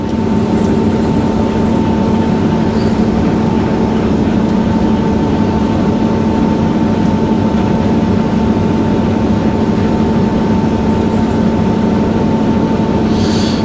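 Vehicle driving along a road, heard from inside as a steady, loud engine drone with a constant low hum and road noise that does not change for the whole stretch, with no talk.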